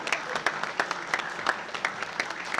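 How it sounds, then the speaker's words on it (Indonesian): On an Indonesian TV game show, a small studio crowd gives sparse, uneven applause for a sponsor, scattered individual claps standing out over a thin background, fairly quiet and short. "Tepuk tangan buat Medifarma."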